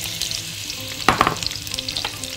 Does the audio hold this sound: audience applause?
no